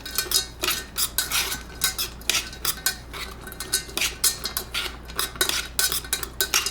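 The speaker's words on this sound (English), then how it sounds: "We stir the vegetables so they are cooked for about 5 minutes." Frozen mixed vegetables stirred in a pot while cooking for rice, with a spoon scraping and clinking against the metal in a steady, repeated rhythm of close, bright strokes.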